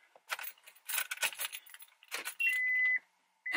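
Car keys jangle in a series of bright metallic bursts as the ignition is turned on, followed by a steady electronic beep tone from the car's dashboard near the end; close and fairly quiet.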